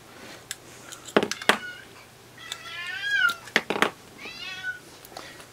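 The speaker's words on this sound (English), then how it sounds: "Here's my cat." A 20-year-old cat meows close by in a home repair setting, several drawn-out meows with a few sharp clicks and knocks between them, no speech.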